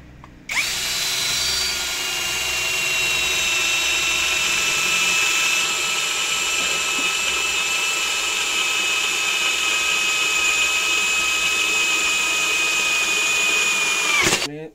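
A Scheppach 60 Nm cordless drill runs in second speed boring into a thick metal workpiece, a loud, sustained high whine that starts abruptly, holds steady for about fourteen seconds and then cuts off.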